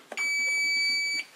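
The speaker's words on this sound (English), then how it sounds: "That beep was actually the failsafe setting." A 9XR RC transmitter with a FrSky module gives one clean, sustained high electronic beep of about a second as the failsafe is set, alone in a quiet room.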